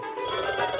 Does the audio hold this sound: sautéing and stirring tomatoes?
no